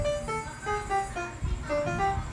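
Piano plays a melody, a quick run of distinct single notes at a steady rhythm with a few repeated pitches, close and moderately loud with no voice.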